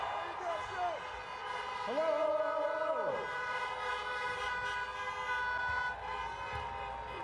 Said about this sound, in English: Oh, the honking.